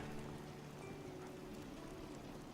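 Rain on a gloomy day in the video game Fallout 4, a faint, steady patter of falling drops with a low droning hum beneath, continuous and without voices.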